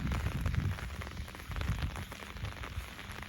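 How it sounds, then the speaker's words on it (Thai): Rain falls steadily in a rural Thai setting in the evening, a continuous soft wash of drops on surfaces with low rumbling texture and no voices. "โอ้ฝนก็ตก"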